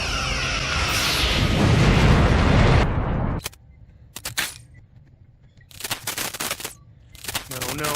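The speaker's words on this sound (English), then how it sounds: "Fire all weapons." Starship weapons fire in Star Trek: Picard, starting with a loud, sustained roar of blasts and explosions that cuts off abruptly. It is followed by scattered sharp bursts and crackling impacts with quieter gaps between them.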